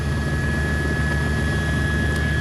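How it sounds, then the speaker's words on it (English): A news helicopter hovering over a New York City scene, a loud steady engine drone with a constant high whine and rotor rumble, close and continuous without speech. "any of the other choppers who are in the area trying to cover this story"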